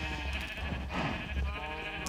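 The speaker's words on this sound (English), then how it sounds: "And his sheep. I see his sheep a lot of them." Sheep bleating in the Minecraft video game, a steady run of game-style bleats close and clear, with no talk over it.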